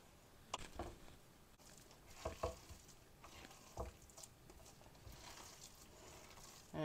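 Banana sticky rice filling is stirred in a pot as it cooks down dry, with soft scraping strokes and light sizzling in irregular bursts, close and quiet, with no talking.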